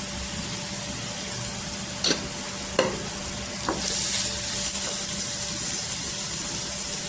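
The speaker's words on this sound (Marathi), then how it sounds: "इथे तेलावर छान असं परतलेलं आहे पहा।" Raw mango chutney with green chilli, garlic and peanut powder sizzles steadily in hot oil, broken by a few sharp scrapes of a spoon stirring the pan, close and fairly loud with no talking.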